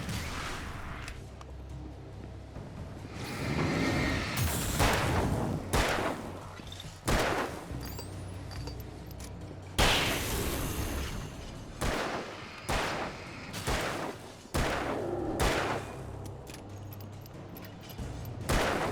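Gunfire in the video game Alan Wake, with repeated sharp, loud shots, some single and some in quick clusters, over a steady dark background rumble.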